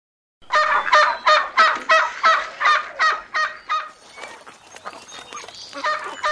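A flock of swans honk as they fly overhead, about ten loud rhythmic calls in a steady series, then the calls thin into softer, scattered honking.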